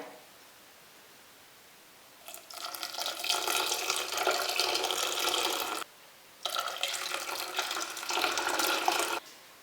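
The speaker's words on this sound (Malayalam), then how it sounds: "ഇതിലേക്ക് ഗ്രേവിക്ക് ആവശ്യമായ കുറച്ച് വെള്ളം കൂടെ ഒഴിക്കാം" Water is poured into a clay cooking pot for sole fish curry gravy in two steady, splashing streams of about three seconds each, separated by a short pause, close by.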